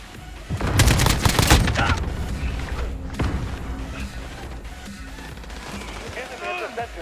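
Video game AK-47 gunfire crackles in rapid automatic bursts, loudest early and then trailing into scattered shots and explosions. Game voice lines are heard over the shooting.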